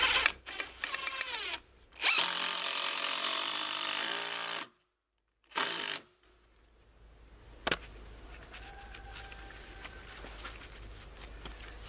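A power drill drives a screw into wood outdoors while building a swimming pond, with long steady whirring runs that stop and start, a brief pause, then a final short burst, loud and close.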